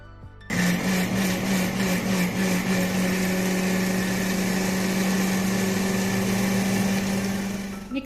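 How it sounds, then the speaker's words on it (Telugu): A mixer grinder grinding soaked sago with its water starts abruptly and runs with a loud, steady whirring hum, then begins to wind down at the end. "ఆ నీళ్ళతో సహా మిక్సీ పట్టుకోవాలి"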